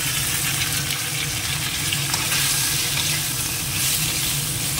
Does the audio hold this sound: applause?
no